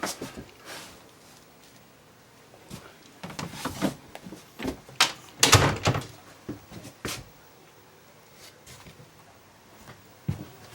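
A pocket door in a camper slides and bumps, giving a series of scattered rolling rattles and knocks, loudest around the middle, with quiet pauses between.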